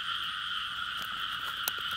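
A frog croaks in a steady, unbroken trill at a frog-trapping spot in a Vietnamese field, holding a constant buzzing tone throughout with a faint click or two.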